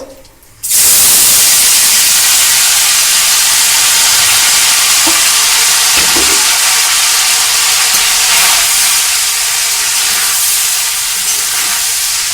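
Pasta is tossed into a hot pan and stirred as it fries, setting off a sudden loud, continuous sizzling hiss that holds steady for several seconds with faint stirring scrapes beneath it.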